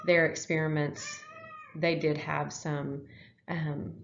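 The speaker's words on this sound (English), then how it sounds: "Sorry, that was my cat." A pet cat meows several times, close by, its cries mixing with a person's talking.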